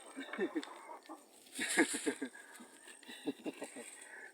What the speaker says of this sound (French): Et là, c'est les poulets de ferme.